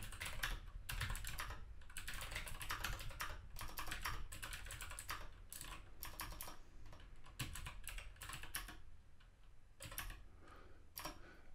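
Steady fast typing on a computer keyboard, with dense close key clicks and short pauses running for over ten seconds and no talking.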